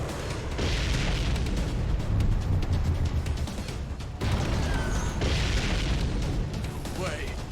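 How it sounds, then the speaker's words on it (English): Booming explosions from a firefight in the Guilty Gear Strive story mode, set at the perimeter of the White House, rumbling continuously under a voice, with a brief drop near the middle before the blasts resume. "We seem to be witnessing a firefight on the perimeter of the White House."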